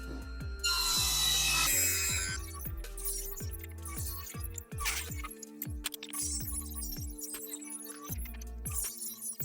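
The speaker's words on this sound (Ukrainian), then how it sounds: "Виставив на циркулярній пилі потрібну мені товщину, нарізаю деталі." A circular saw whines and bites repeatedly through wood in short cuts, with rhythmic rasping passes and clinking in between, close by.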